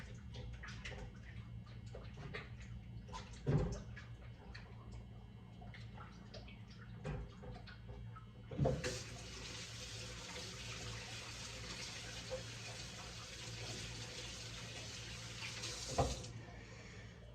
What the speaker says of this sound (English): I'm gonna wash my hands off real quick.